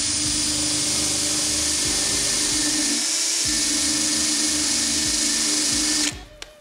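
A power drill whirs steadily with a rotating wire brush scrubbing against metal profiles and sheet, a loud continuous grinding whine that cuts off abruptly near the end.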